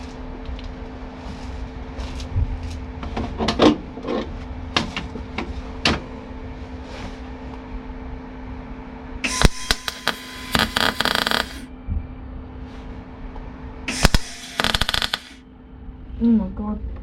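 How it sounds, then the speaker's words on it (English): Welding on a Rover P6 with a poor-sounding weld: two crackling, sputtering bursts, each lasting a second or two, separated by quieter clicks and shop background noise. "that does not sound like a good weld, does it?"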